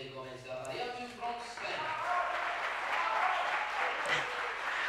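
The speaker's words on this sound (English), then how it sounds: "Got a very, very rowdy crowd here." A rowdy Spanish crowd claps and cheers at a 10m men's air pistol shooting final, rising from muffled voices into a broad, steady wash of applause at moderate distance.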